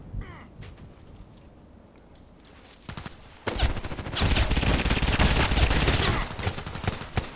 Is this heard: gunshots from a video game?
yes